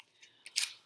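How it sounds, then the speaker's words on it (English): Paper torn by hand in a fine motor skills lesson, a short faint rip with a brief crisp burst near the end, heard alone. "So practice tearing that paper."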